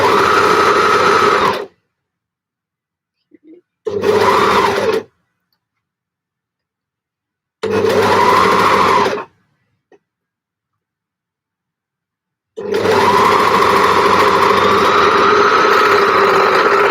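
A home sewing machine stitches a T-shirt in four loud, close bursts, the longest at the end, with silent pauses between them. No one talks.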